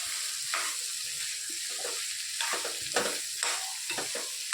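Dry sabzi with coriander being mixed in a pan: a soft sizzle under intermittent scraping strokes of a spoon, close and fairly quiet, with no talking.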